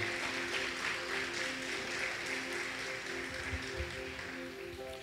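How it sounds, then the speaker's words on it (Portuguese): A church congregation applauds together in steady, sustained clapping that fills the room at moderate level, with a faint tonal hum beneath and no voices over it. "Você pode aplaudir o Senhor? Por favor, faça com alegria."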